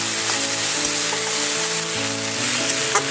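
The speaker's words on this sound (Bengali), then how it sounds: "ফ্লেমটা আমি হাইয়ে করে দিয়ে শাকটা নেড়ে নিচ্ছি।" Piring shak, a leafy green, being stirred and fried over a high flame, with a steady dense sizzle that holds throughout and a few scraping stirs of the spatula against the pan.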